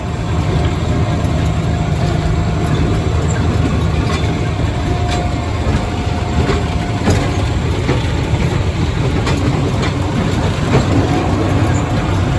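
A narrow gauge train rolls along its line in snowy conditions, a steady loud rumble of wheels and engine holding throughout with occasional faint clicks and creaks, no voices.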